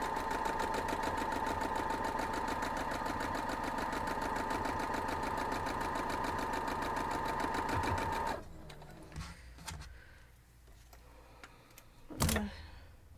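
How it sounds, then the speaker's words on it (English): A sewing machine stitches a diamond pinwheel quilt block in a fast, steady run of rapid needle clatter for about eight seconds, then stops, leaving faint handling clicks and a brief bump near the end. "Sew down this other side now."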